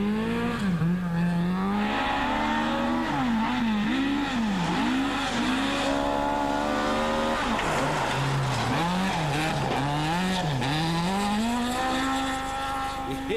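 Historic trophy rally cars race past at a Wairarapa rally, engines revving hard and wailing through rising and falling gear changes, loud and sustained, with a second car's note overlapping midway.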